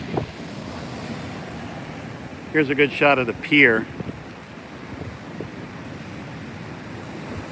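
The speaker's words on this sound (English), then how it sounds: "some of the sand's been moved around by the waves that are coming on shore" Surf rolls steadily onto the beach beside Flagler Beach Pier during Hurricane Dorian, a continuous roar mixed with gusting wind noise, while a reporter speaks briefly partway through.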